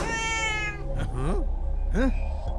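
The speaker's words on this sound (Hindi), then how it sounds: "पहले इस बिल्ली को उठाकर फेंको कहीं।" A cat meows loudly indoors, two rising-falling cries after a stretch of raised voices, with someone shouting angrily about the cat over the noise.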